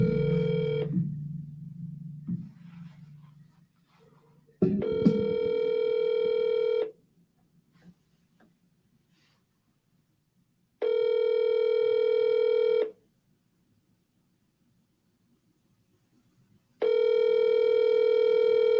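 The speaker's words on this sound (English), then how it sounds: "All right, I'm just calling them off my cell phone." An outgoing call on a cell phone rings back three times in evenly spaced, steady tones separated by silence, after some faint handling noise at the start.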